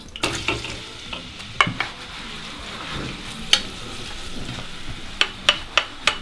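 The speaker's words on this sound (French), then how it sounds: "L'huile est chaude. On va baisser, ça va chauffer en même temps. Donc on va mettre l'oignon et le poireau." Chopped onion and leek sizzle softly in hot oil in a pan, a steady fry with sharp clicks and taps of a utensil stirring, no voices.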